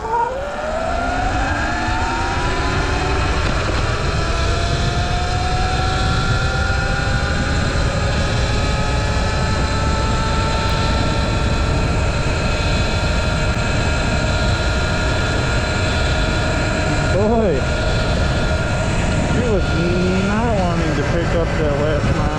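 A Sur Ron X electric dirt bike, unlocked and carrying a 6-foot, 250 lb rider, runs at top speed with a steady, loud electric motor whine rising in pitch. Heavy wind rush runs continuously throughout the ride.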